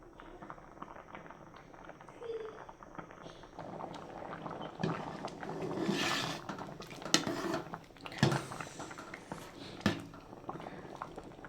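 Rice for sweet jaggery rice bubbles in a pot on the stove, a soft, close boiling burble with intermittent spoon and pot clinks and scraping, fairly quiet throughout.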